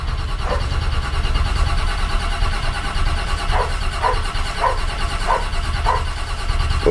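A flooded Chevrolet K10 engine cranks on a cold morning in a long, steady, rhythmic churn with repeated pulses, failing to catch, heard up close and loud.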